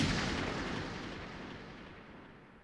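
Gunshot in Persona 3 Portable: a single heavy blast at the very start, decaying into a long, fading rumbling tail that dies away alone with no voices.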